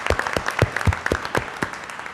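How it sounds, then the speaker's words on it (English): Meeting audience at a neighborhood partnership annual event applauding, a short burst of scattered, uneven hand claps close by. "Please give Connie a round of applause for everything she does."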